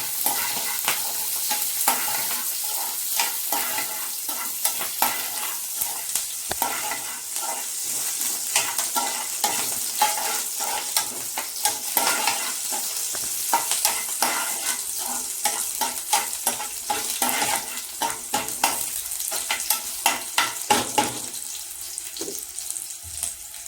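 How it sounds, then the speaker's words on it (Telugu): Green chilli pieces sizzle and fry in a pan for a brinjal and tomato pickle, with a steady hiss broken by frequent scraping stir strokes from start to finish, close and moderately loud, with no talking. "ఇట్లా పచ్చిమిరపకాయ ముక్కల్ని పచ్చివాసన పోయే వరకు ఫ్రై చేసుకోవాలి."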